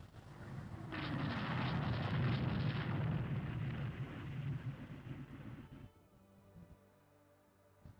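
Naval gunfire in the Rule the Waves II video game, with heavy, rumbling shell blasts and a sustained roar of battle noise that fades out near the end, leaving quieter scattered thuds.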